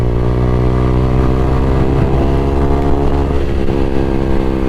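A Bajaj Pulsar N160 motorcycle's exhaust drones loud and steady at high speed, with a continuous harmonic engine note and wind-like rush and no pauses.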